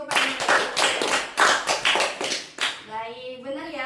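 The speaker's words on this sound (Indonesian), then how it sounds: "kita beri tepuk tangan dulu kepada Ananda." A small group claps together in a school group guidance session, giving steady, rhythmic, fairly close claps for a few seconds before a voice begins talking.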